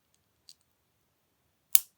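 An MMCX cable connector snaps onto a BGVP NS10 hybrid earphone with one sharp, close click, preceded by a few faint small ticks of handling.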